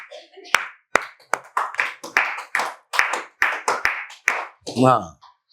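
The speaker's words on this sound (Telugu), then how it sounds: "ఈ చప్పట్లు ఎలా ఉన్నాయి చెప్పండి?" A church congregation claps in rhythm, about a dozen quick, close hand claps in a steady beat, with short vocal sounds mixed in near the end.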